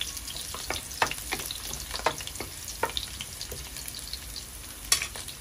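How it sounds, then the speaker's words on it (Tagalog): Onion and garlic sauté in a pan beside half a kilo of chicken, a steady soft sizzle broken by repeated scraping clicks of a spoon stirring, close up with no talk. "Haluin natin ng konti."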